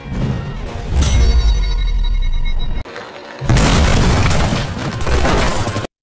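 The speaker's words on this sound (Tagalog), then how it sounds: "Ang mga asasin ay umatake sa summit, at naging isang ganap na lugar ng shootout." Gunfire and heavy explosions in a movie shootout as assassins storm a summit, with loud booming blasts and rapid bursts that cut out briefly before another dense barrage.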